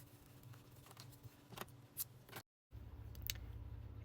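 Scissors snip off excess crochet yarn, with a few short, quiet clicks of the blades close by against a faint background hum.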